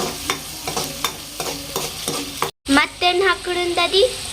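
Onion paste frying in hot oil while being stirred, for a brinjal gojju; a steady sizzle with regular scraping strokes of a spoon against the pan, close and fairly loud, briefly cutting out then resuming.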